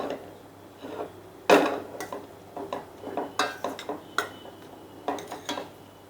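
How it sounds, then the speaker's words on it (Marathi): A spoon clinks and scrapes around a pan while a mango and jaggery mixture is stirred over medium heat. Irregular close clatters and knocks come every half second or so, with no talk. "आता मी मध्यम गॅस करते आणि हे छान मिक्स करून घेते."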